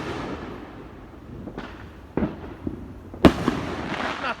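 Fireworks exploding in the night sky, several distant thuds and pops building to one sharp loud burst with a lingering crackle.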